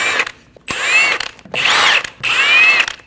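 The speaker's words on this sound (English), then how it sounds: "Using a 17mm socket, remove the 5 lug studs." A power tool with a 17mm socket spins off the rear wheel lug studs of a 2012-2022 Volkswagen Passat, four loud whirring bursts separated by short pauses.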